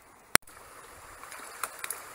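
A small creek twists through the land where a ram pump is being placed. Its quiet, steady gurgle runs throughout, with one sharp click near the start and a few faint ticks later.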